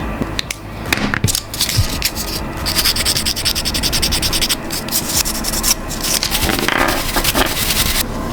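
Sanding cured putty filled into holes on a custom Hulk action figure, a steady close rubbing and scraping that runs continuously throughout with brief louder scratchy bursts and no talking.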